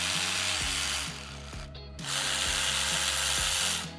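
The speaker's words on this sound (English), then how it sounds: "The next step is to remove these 13 millimeter heads here on the CP4 pump." A ratchet wrench clicks rapidly and steadily while loosening 13 mm bolts on a BMW CP4 fuel pump, its close mechanical ticking running in two bursts separated by a short pause.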